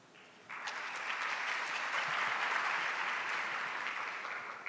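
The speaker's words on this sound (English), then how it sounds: "So please welcome with a big applause." An audience at the ISMIR 2025 music information retrieval conference's WIMIR session breaks into steady, dense applause that swells in quickly and holds at full strength to the end.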